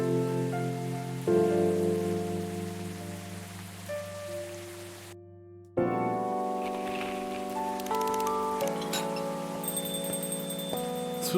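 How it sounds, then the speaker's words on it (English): Rain ambience in the café game Coffee Talk, a steady soft patter running under layered musical tones, with a brief hush midway before the music and rain resume. "Rainy."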